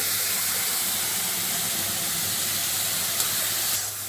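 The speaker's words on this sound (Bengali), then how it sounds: "তেলের মধ্যে দিয়ে দেব এই যে কালো জিরে, আর দিয়ে দেব হলুদ" Nigella seeds, turmeric and a prepared spice paste hit hot oil with a loud, constant hissing sizzle that eases slightly at the very end.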